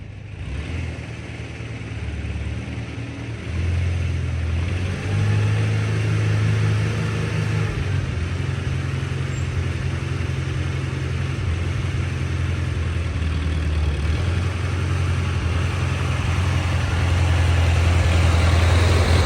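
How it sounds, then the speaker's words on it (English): A restored 1949 Farmall Super A tractor engine runs steadily with a low, throbbing chug that grows slightly louder and fuller after the first few seconds, holding a constant rhythm with no talk. "I was able to get the tractor started today."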